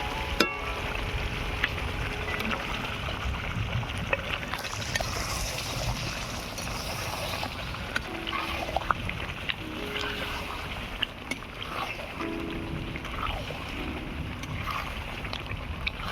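Marinated chicken goes into a pan of frying masala, a steady low sizzle and hiss with occasional soft clinks of the pan, faint and continuous throughout.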